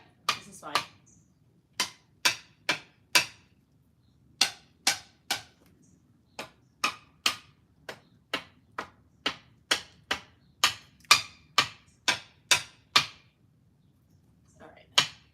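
Hard, sharp taps strike in quick runs and pauses, about two dozen blows in all, as something is hammered down in a home garden; no voice over them.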